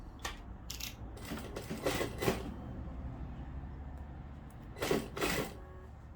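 A sewing machine stitches a seam on a high-neck midi dress, running in two bursts of rapid mechanical clatter, a longer one early and a shorter one near the end, separated by a quieter handling pause, close with no voices.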